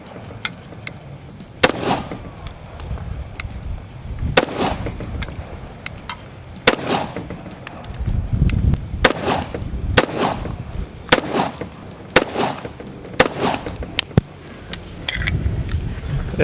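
Springfield 1911 .45 pistol firing Federal 230 grain full metal jacket rounds, a dozen or so sharp, loud reports spaced irregularly a second or two apart, with outdoor ambience between the shots and no talk.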